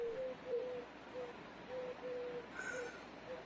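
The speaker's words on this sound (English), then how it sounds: "there's a bunch of owls that live here. And in the mornings, they hoot." Owls hoot in the morning at a rural running spot, faint and distant, in a soft repeating series of low calls over steady outdoor background noise.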